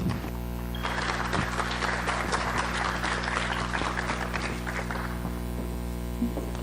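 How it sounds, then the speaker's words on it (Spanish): Audience applause for a speaker at a medical college talk, a steady patter of clapping hands over a constant electrical hum, lasting several seconds and then fading out. "Démosle un fuerte aplauso."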